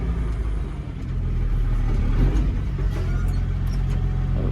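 A car reversing across a muddy farmyard on a rainy day, its engine a steady low rumble close by that holds throughout, with no talk over it.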